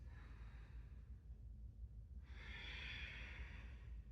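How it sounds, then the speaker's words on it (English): Slow breathing in and out through the nose during a vinyasa yoga flow, a soft airy inhale followed by a longer, stronger exhale, close and quiet with a low background hum. "You're breathing in through the nose, and then see if you can keep breathing out through the nose."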